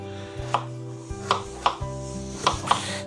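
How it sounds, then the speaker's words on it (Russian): Knife chopping potatoes into thin matchstick strips on a board, about seven crisp, evenly spaced cuts with a low steady hum behind them and no talking. "Картошку я режу вот такими соломочками."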